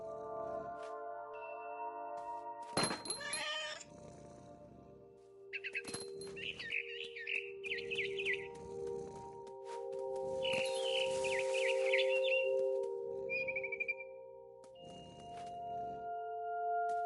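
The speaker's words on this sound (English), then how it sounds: "Then I heard chirping outside my window. It was a barn swallow going back to her nest." Bright, repeated chirps from a barn swallow in the game What Remains of Edith Finch, in short bursts, set over a steady electronic tone with soft footsteps and clicks in between.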